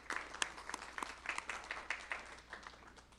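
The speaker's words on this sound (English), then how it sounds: "I think you should give yourselves a round of applause" A small crowd at a board of regents meeting gives soft, scattered applause, faint and somewhat distant, with loose overlapping claps that taper off toward the end.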